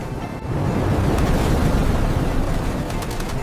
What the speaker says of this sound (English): A massive gust of wind is hitting the backyard suddenly.